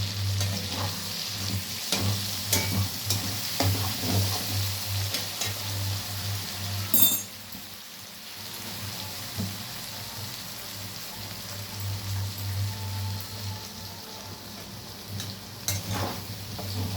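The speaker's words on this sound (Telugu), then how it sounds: "కొబ్బరి, అల్లం వెల్లుల్లి పేస్ట్ వేసి ఫ్రై చేసుకోవాలి బాగా." Grated coconut and ginger-garlic paste frying in a little oil, a steady close crackling sizzle with stirring scrapes that briefly quiets before resuming.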